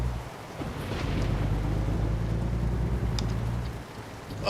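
Steady rain from the American Truck Simulator video game, a dense continuous hiss with low rumbling underneath, loud and unbroken throughout.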